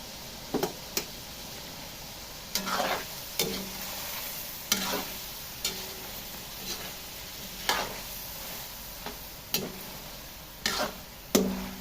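Chicken and innards fry in their own rendered oil for a Kapampangan dish, a soft steady sizzle broken by periodic scraping stirs and clacks of a utensil against the pan, close but fairly quiet.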